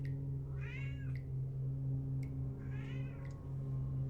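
A cat gives two separate meows, soft and a little distant, over a steady low hum in the background with no talk.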